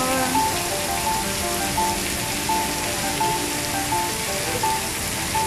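A downpour at Singapore's National Stadium drums on hard surfaces in a continuous, close roar of countless drops, steady and loud from start to finish with no talk over it.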